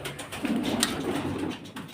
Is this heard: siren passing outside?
no